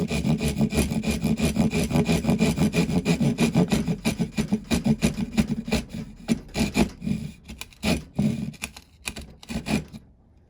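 Rasping back-and-forth strokes of the saw-back spine on a Glock field knife cutting into wood, a steady close rhythm that slows and grows more spaced toward the end before stopping.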